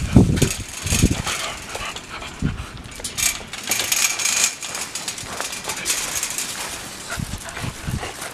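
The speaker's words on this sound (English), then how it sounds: "So there's puppies out here." Puppies yip, pant and whimper close by, with a few sharp barks breaking through a busy, scuffling background.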